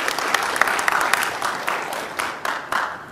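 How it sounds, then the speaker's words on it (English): Applause from an audience at a tech talk on building a platform on Force.com, a steady round of clapping with a few sharper claps standing out, lasting the full stretch without speech. "definitely a round of applause"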